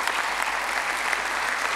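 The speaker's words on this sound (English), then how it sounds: "can I get a round of applause, please," An audience claps together in sustained, dense applause, loud and continuous with no voices over it.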